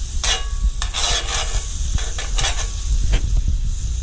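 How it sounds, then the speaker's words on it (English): Butter melting and sizzling in a pan, a close, steady hiss broken by scraping stirs and faint clinks. "I want the butter to melt, but I don't want it to burn"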